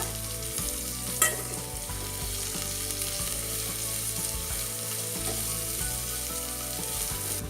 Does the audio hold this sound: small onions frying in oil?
yes